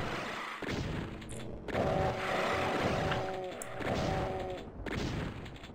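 Shotgun blasts and fighting against Lost Souls in the Doom map The Haunted Mansion, heard as a dense, loud run of repeated bursts and booms, with a steady harmonic drone rising in the middle.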